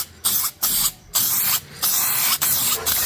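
Spray paint hissing onto a Jeep Grand Cherokee rear subframe in several loud, close bursts of about half a second to a second, separated by brief pauses.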